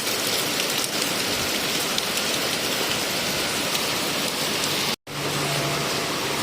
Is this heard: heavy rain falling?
yes